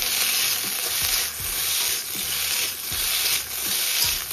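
Potatoes fry over high flame in a pan for alu bhaja, a constant loud sizzle broken by rhythmic scraping stirs roughly every half second to second, close up with no talking.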